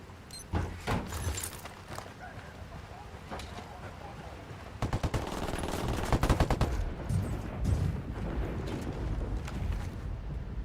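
Gunfire in the video game Ghost Recon Wildlands: a few scattered shots, then a rapid automatic burst and continued heavy firing with booms, loud and sustained, with voices briefly in the mix.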